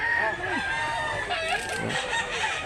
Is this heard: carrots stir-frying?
no